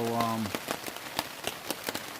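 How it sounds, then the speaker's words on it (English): Steady rain patters on a surface at a campsite along the Appalachian Trail, a dense, even hiss with soft scattered drops, heard close and alone after a brief low tone at the start. "I'm just sitting in the rain."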